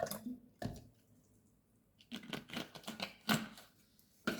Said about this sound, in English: So I'm going to mix my slash with the water first.